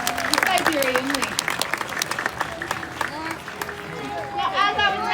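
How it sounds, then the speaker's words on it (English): An outdoor Renaissance festival crowd applauds after a Siberian lynx show. Dense clapping and crowd noise run throughout while a voice talks over it. "let's have one final round of applause for Leica, the Siberian lynx."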